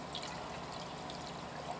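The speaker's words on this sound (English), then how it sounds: "To get the siphon started, you just drop your tube in." A siphon tube is dropped into aquarium water, giving a soft, steady trickle and burble of water close by, faint and continuous.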